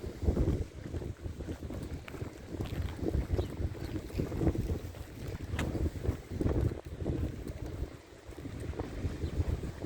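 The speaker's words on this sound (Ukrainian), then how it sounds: "Да, так вітер свіженький" Gusty wind at Langeron beach in Odesa buffets the microphone with a low, rumbling roar that rises and falls throughout, loud and close, with no voices.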